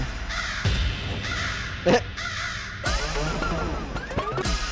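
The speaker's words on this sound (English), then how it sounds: "Why the hell am I hearing bird like a crow?" Crows caw repeatedly in The Stanley Parable video game, harsh rasping calls arriving in short bursts over a background of ambient game sound.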